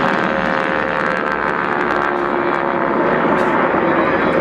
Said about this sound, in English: These Harvards are powered by 600 horsepower Pratt & Whitney engines.